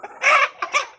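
An Adler breed rooster clucks in two quick bursts, close and fairly loud, with short pauses between calls.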